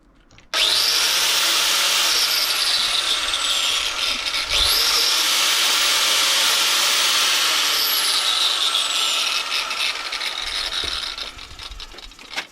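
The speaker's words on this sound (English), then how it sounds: "actually I had to take the angle grinder, but now it's gonna go down" An angle grinder cuts through a punctured tyre at a scrap yard: a loud, continuous high whine that dips in pitch midway as the blade bites, then runs on steadily before stopping near the end.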